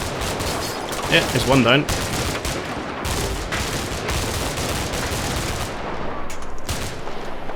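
Gunfire in the war game Combat Mission: Cold War: steady, dense rattling of automatic weapons with scattered sharper shots, sustained across the battle soundscape while someone briefly talks over it.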